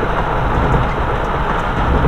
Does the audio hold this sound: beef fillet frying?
no